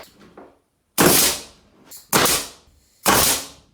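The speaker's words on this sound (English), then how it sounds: "Been doing a little bit of fun with the nail gun" A nail gun fires into a kitchen floor being prepared for laying: three sharp, loud pneumatic shots spaced about a second apart, each with a quick decay, close up and without talk.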